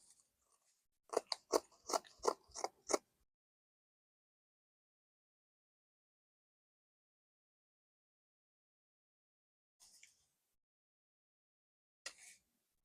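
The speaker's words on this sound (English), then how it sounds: "I'm going to cut on the back neckline and the back armhole" A quick run of about six close, crisp scissor snips cutting fabric along the back neckline of a kaftan dress, then long silence broken by two more isolated snips.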